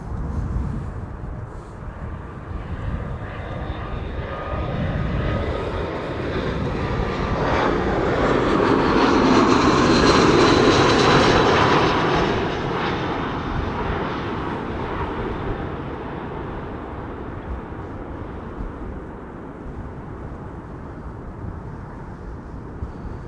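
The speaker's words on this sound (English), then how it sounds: "This is SAS flight 821. It is arriving from Oslo, 1 hour and 23 minutes on the way." An SAS airliner arriving from Oslo on flight 821, with its jet engines swelling into a loud roar as it passes close by, then fading into a lingering rumble.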